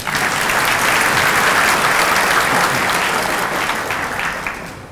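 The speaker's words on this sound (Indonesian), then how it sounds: "Boleh tepuk tangan." Audience at an economic outlook forum applauding loudly, a thick continuous roar of clapping hands that stays full throughout and eases slightly at the end.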